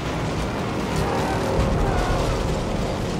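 A World War I tank engine in the Battlefield 1 video game rumbles as the vehicle drives on through mud, a dense, loud, continuous roar with grinding mechanical noise.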